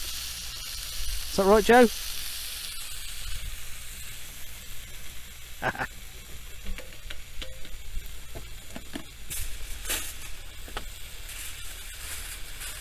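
Vegetables fry in a pan inside a motorhome with a soft continuous sizzle, overlaid by occasional clinks, stirring and brief speech from people nearby.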